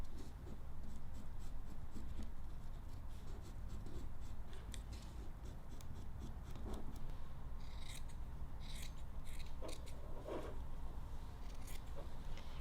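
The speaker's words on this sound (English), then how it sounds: "I'll go ahead and cut them out of the felt" Scissors snip through felt for finger puppets, a close, continuous run of rasping cuts and soft rubbing of fabric, with sharper clicks of the blades scattered throughout and no talk.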